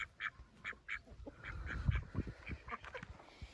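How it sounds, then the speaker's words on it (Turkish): Farmyard ducks quack in short repeated bursts, fairly close, with heavier honking calls in the middle as other village fowl mingle nearby; no talk is heard. "Ördekler de burada var arkadaşlar"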